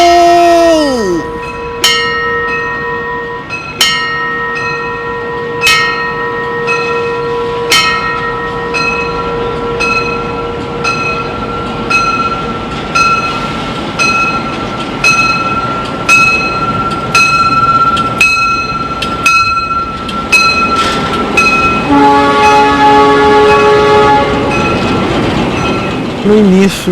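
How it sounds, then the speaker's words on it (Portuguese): A train pulls into a station with a long horn blast at the start, then steady rolling clatter and repeated sharp clanks of wheels on rail joints, loud and close, building to a screech of braking near the end. "O trem vem!"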